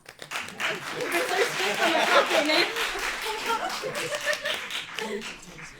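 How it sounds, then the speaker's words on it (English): A student election question-time audience claps briefly in a scattered patter, mixed with chuckles and talking voices. "You guys can clap."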